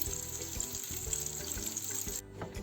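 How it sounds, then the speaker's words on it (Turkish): Steady hiss and crackle of anchovies frying in hot oil, continuous and close, with a faint low hum underneath. "Kızarmaya bırakıyoruz."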